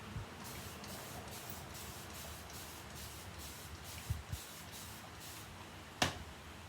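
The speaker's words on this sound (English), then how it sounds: "Alright, we're going to mist it down again." A spray bottle mists chalk-painted furniture in a steady series of soft, quick hissing spritzes at an even rhythm, close by, with a couple of small knocks and a sharper click near the end.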